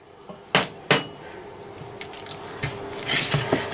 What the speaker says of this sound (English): now I'm going to add some more water